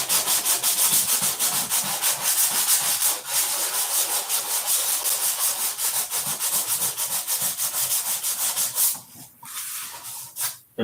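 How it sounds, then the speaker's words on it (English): Steady rhythmic hand sanding scrubbing rust spots off metal, close and continuous, with quick repeated strokes and a brief pause near the end. "that little bit of sanding, just to get those rust spots off there"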